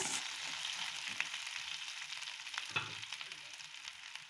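Garlic, onion and a small piece of tamarind sauté in a pan for Mysore chutney, producing a steady, soft, close sizzle with a couple of faint utensil clicks.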